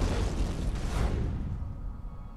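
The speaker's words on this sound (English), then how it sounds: "nice little explosion there, I ain't gonna lie, that was nice" A single explosion in the video game Blasto gives a loud rumbling burst that decays over about two seconds into a fading roar, with no talking over it.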